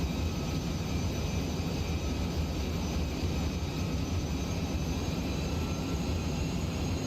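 Jet engine of an aircraft in Kerbal Space Program flying near supersonic speed, a steady loud broadband roar with a low rumble, continuous and unchanging throughout, with no talk over it.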